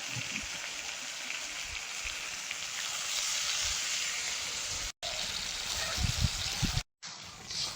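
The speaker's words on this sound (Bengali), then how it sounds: "এবার জল দিয়ে দেবো।" Water is poured into a cooking pot of rohu fish curry seasoned with turmeric and salt, a steady close hissing splash running for several seconds with two brief breaks.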